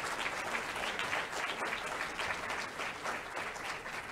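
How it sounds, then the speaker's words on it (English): Graduation ceremony audience applauding at a spring university celebration, a sustained, even crowd of many hands clapping, heard from a distance and fairly soft, with no talk over it. "Can we give them a round of applause?"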